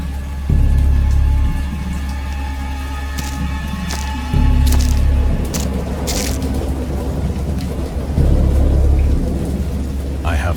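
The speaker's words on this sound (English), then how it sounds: "Indistinct recollections of a great storm sometime after I reached the boat." A heavy thunderstorm in the video game Dagon: steady loud rain patters throughout while deep thunder rumbles swell several times, with sharper cracks breaking through between them.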